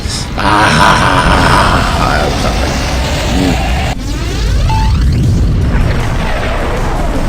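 A fire spell from the video game Grandia 2 Anniversary Edition erupts in loud, continuous roaring booms with a sharp break partway through, then a swirling, ringing tail.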